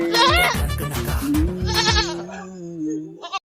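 A goat bleats loudly nearby, a long wavering cry followed by a second bleat, with clattering knocks underneath.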